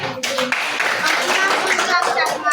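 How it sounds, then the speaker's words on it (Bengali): A group of people claps for a child's handmade craft in a close, lively burst of quick hand claps, with voices talking over the clapping. "হাততালি দাও সবাই"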